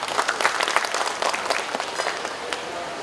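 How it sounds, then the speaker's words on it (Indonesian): Applause at a Bandung leather and footwear trend exhibition, a moderate crowd clapping steadily with distinct individual claps for about three seconds, no voices over it. "Tepuk tangan untuk Pak Erick."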